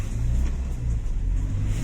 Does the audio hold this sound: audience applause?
no